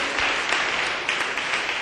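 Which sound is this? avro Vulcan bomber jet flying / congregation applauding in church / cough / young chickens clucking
congregation applauding in church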